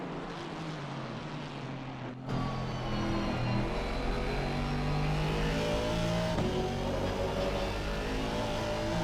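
Aston Martin GT4 race car engine in a racing video game at Indianapolis, a steady loud drone that climbs in pitch as revs rise, with a brief dip around a gear change before the engine note builds again, no voices over it.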